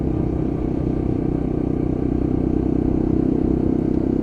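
A Lexmoto LXR 125cc Euro 5 motorcycle in satin red hums along at a steady low engine drone while riding over speed bumps, with road and wind rumble and a faint clatter.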